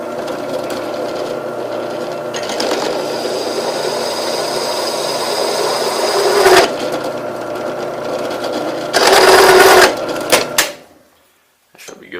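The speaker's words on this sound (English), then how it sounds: "got the crown cutter set up, and I'm going to go ahead and cut it now" A crown cutter bites into a kiridashi knife blank with a steady, loud machining whine and rattle for most of the clip. It surges briefly around the midpoint, then cuts off abruptly near the end.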